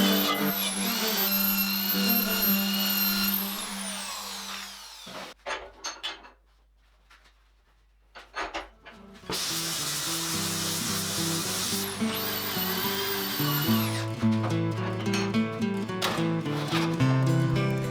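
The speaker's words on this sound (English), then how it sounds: "I am also using a brass brush and slight heating of the surface." A power brass wire brush works a heated forged metal breastplate clamped in a vise, making loud, close whirring and scraping with a high whine. The brushing stops briefly in the middle, then resumes at full intensity.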